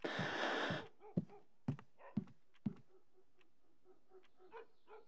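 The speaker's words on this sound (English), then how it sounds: "I heard a dog barking" Distant dog or wolf barks in TheHunter hunting game, a few short sharp calls spaced apart after a burst of rustling, faint and alone in a quiet outdoor scene.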